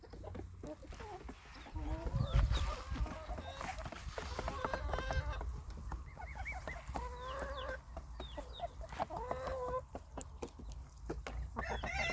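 Chickens cluck and murmur steadily in a henhouse, with a rooster's calls mixed in and a constant low background rumble throughout.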